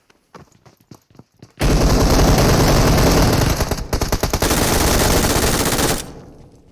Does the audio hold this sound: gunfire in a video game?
yes